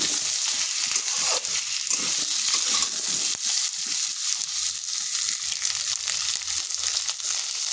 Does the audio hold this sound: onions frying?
yes